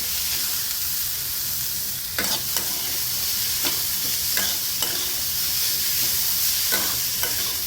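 Shredded cabbage stir-fried in hot oil for vegetable Maggi noodles gives a continuous close sizzle, broken by several sharp scraping strokes of a spatula as the pan is stirred.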